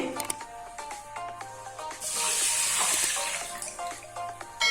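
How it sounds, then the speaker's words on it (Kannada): Water poured from a glass into a pressure cooker holding roasted moong dal, with a rushing splash at the middle, surrounded by clinks and light handling noises nearby. "ಇದಕ್ಕೆ ಇನ್ನು ಎರಡೂವರೆ ಗ್ಲಾಸ್ ನೀರು ಹಾಕೊಳ್ಬೇಕು ಹಾಕೊಳ್ತೇನೆ"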